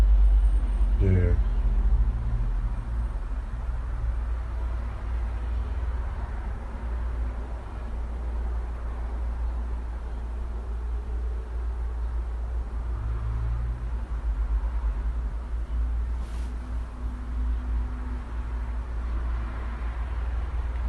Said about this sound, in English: that's traffic outside the window.